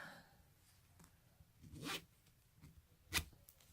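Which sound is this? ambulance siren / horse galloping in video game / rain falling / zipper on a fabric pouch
zipper on a fabric pouch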